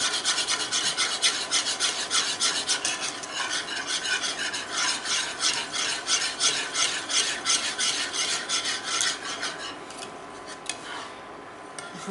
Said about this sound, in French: Et vous mélangez.